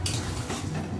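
Sauce being stirred and sautéed in a pan for chana paneer produces a short burst of close scraping and soft sizzling, with a spoon rasp near the start.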